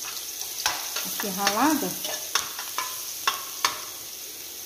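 Grated garlic sizzles in pork fat in a pan, with steady frying and sharp clicks of a utensil stirring against the pan. A voice speaks briefly.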